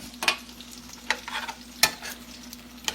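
Shrimp cooking in butter and salt in a pan, a soft, quiet sizzle broken by a few sharp scraping stirs at irregular intervals.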